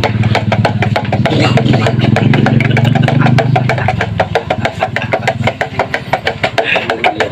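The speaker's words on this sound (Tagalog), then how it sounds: "Ulur mo yung motor." A motorcycle engine runs loud and close, its steady idle rumble roughening midway, with a rapid ticking beat throughout.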